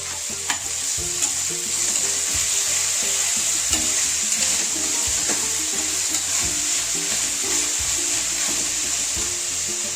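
Onions fry with salt in a pan, giving a loud, continuous hissing sizzle with repeated scrapes and taps of a stirring spoon throughout.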